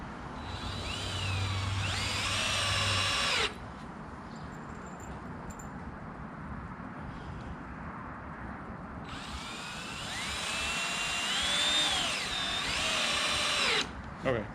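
Power drill driving screws into the end wall boards of a backyard greenhouse, two sustained whining bursts with a quiet stretch between, close and loud.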